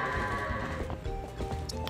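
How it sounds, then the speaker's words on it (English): Goat bleating in Zelda: Twilight Princess HD, a few short nasal bleats mixed with hoof-like clatter and game ambience, moderately loud with no talk. "You're not a man, you're just a goat."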